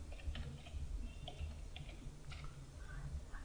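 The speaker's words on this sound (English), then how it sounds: "I am typing the IP address of my system for secure authority," Keys clatter on a computer keyboard as an IP address is entered, a quiet, irregular run of soft clicks over a low background hum, with no speech.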